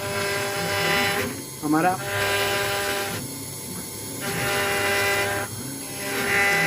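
A CNC router engraving machine roughing black acrylic gives a steady loud whine with many harmonics, pausing and resuming as the cutter passes, while someone talks over it.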